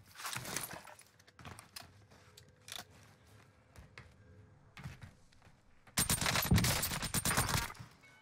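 Nail gun fire in Call of Duty Warzone on Rebirth Island: a short rapid burst of sharp shots, scattered quieter clicks and effects, then a longer dense burst near the end.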